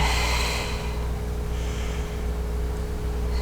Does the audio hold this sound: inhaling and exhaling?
yes